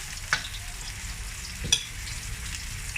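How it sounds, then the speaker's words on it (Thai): Garlic sizzling in hot oil in a home frying pan while preparing steak, with a constant crackling hiss, broken by two brief scrapes of a utensil stirring the pan. "นี่นะครับเสียงนี้กระเทียมก็จะอร่อยด้วยนะครับ"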